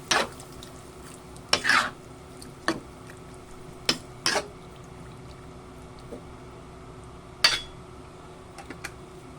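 A spoon stirs pork and sweet potato in a metal pot, giving sharp scraping clinks at irregular intervals, a few louder knocks and softer scrapes over a quiet low background.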